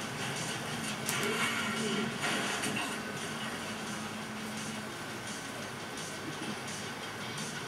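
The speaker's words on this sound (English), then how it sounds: "I'm riding on the train for a dirt bike." A train ride in the Grand Theft Auto V video game, with a continuous low rumble and rattle of rolling rail cars holding steady and fairly quiet throughout, with no talk.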